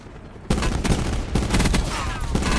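Heavy sustained gunfire in Call of Duty: Black Ops 4 Blackout mode, loud and near, starting abruptly and continuing as a dense rattle of rapid shots with repeated bursts.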